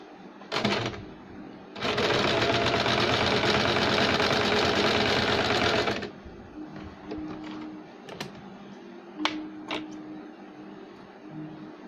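A sewing machine stitches a sleeve seam in one loud, fast burst of about four seconds, then stops, followed by quieter handling clicks and rustles of fabric.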